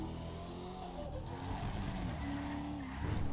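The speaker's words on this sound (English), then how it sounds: "That engine sound good, man." Chevy Bel Air engine in GTA 5, a continuous game-engine drone with shifting revs and tire skid noise, loud and steady throughout, with a louder surge near the end.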